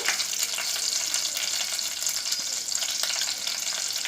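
Curry leaves and chopped garlic fry in hot oil, along with chana dal and dried red chillies, giving a steady, close, dense sizzle with a few light stirring scrapes throughout and no talking.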